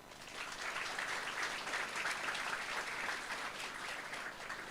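Audience members at a public talk event give a burst of applause, a dense, even patter of many hands clapping at moderate distance that holds steady before tapering slightly.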